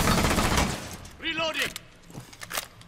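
Gunfire and breaking sounds ring out during a Rainbow Six Siege esports match, a short burst of shots and shattering up front, then scattered impacts, with a voice speaking over it.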